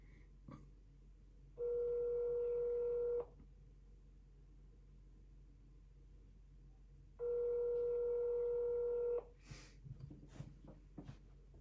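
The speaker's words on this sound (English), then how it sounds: "so I'm gonna start dialing." Two separate telephone keypad tones sound at a steady, moderate level over a quiet room, each held for about a second and a half with a long pause between them. No one speaks.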